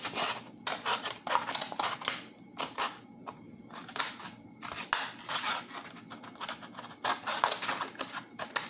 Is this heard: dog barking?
no